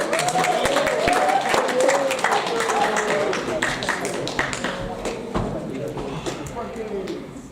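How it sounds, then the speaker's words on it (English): Audience applause at a Porirua College senior assembly, a steady wash of many hands clapping filling the hall, loud and sustained before gradually thinning toward the end, with voices mixed in. "Let's give them a clap."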